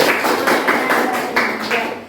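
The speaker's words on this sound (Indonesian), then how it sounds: "Oke, tepuk tangan." Classroom group clapping in a group guidance session, a fairly loud, steady burst of many hands with rhythmic pulses, lasting about two seconds.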